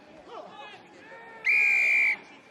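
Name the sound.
referee's whistle at rugby match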